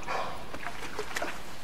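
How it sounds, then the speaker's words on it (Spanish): A dog in the video game Assassin's Creed IV Black Flag barks and yips in a few short bursts over game background noise, moderately close. "Madre mía, el perro, tío."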